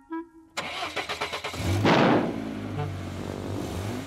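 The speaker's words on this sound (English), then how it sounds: "Let's have a nice loud rev." A cartoon truck's engine in a garage cranks over in a quick rhythmic stutter, then catches and revs loudly into a sustained roar that settles to a steady rumble, with no talk.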